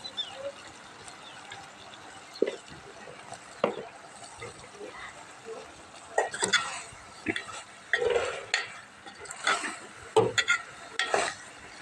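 A spoon stirs chili powder into a potato and egg curry in a pan, giving irregular scraping and clinking strokes with soft sizzling between them, close and moderately loud.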